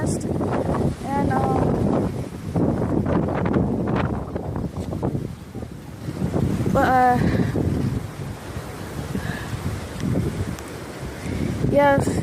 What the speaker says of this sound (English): yeah, it's just that's wind